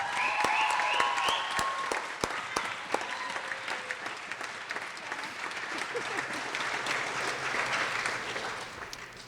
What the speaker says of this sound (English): I would absolutely love for everyone to give Danielle a huge round of applause